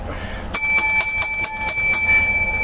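A bright bell rung in a quick run of about seven strikes, loud and ringing on alone after a quiet start.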